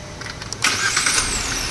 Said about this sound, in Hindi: स्टार्ट कर दी गाड़ी